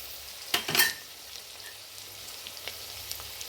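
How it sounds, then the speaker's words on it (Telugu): Green chilies dropped into hot oil in a pan for vegetable biryani, already holding softened onion pieces, giving a brief loud sizzling burst followed by a faint, steady frying hiss with no talking. "ఇప్పుడు పచ్చిమిర్చి వేసిన తర్వాత రెండు కాసేపు వేగాలి"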